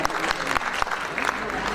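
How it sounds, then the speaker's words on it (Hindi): Applause from the audience at a Hindi literary award ceremony, a steady wash of clapping over the whole short stretch with a voice speaking over it. "एक बार तालियों के साथ अभिनंदन"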